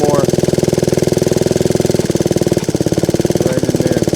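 Tiny Honda QA50 small motorcycle engine with an air leak, revving in a steady rapid putter that rises and dips in bursts, loud and close throughout.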